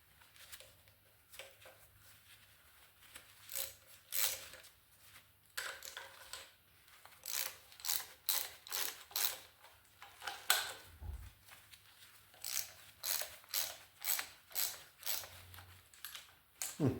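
Hand tools working on parts during a 1980 Reinell boat engine assembly make quiet, irregular clicks and ticks, with short ratchet-like runs in clusters. The sounds are faint and close in a hushed room.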